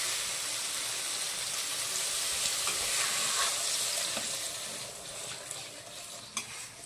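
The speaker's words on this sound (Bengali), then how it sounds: "এবার আমি জল দিয়ে দিচ্ছি।" Water goes into a pan of fried masala for a pabda and bhola fish curry with cauliflower and potato, setting off a loud, sustained hissing sizzle that slowly eases, with a small clink near the end.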